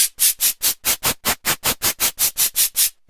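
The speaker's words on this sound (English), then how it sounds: "as you go up, you just get like these noisy low" Noisy, shaker-like hits from a vintage Alesis HR-16 drum machine, a low pink-noise rasp triggered in a fast, even run of about fourteen strokes, loud and close with no other sound.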